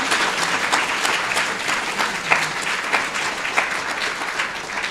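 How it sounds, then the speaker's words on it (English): An audience at a women in business forum applauds a panel, a full, sustained burst of clapping that holds a fairly even loudness for several seconds with a few sharper individual claps standing out. "So let's give them another round of applause."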